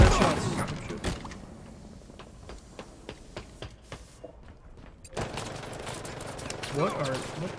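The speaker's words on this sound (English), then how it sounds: "Definitely sounded like you were shooting something way faster. Oh, I was just running a full auto." Rapid full-auto gunfire crackles in Halo Infinite, a dense burst at the start followed by a string of evenly spaced shots and another busy flurry later, with players chatting over it.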